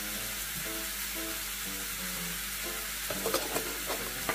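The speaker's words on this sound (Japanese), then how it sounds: "ちょっと一気に焼きすぎたな。" Kombu-cured beef tongue grilling with a steady, soft sizzle, faint crackles and pops picking up toward the end, with no voices.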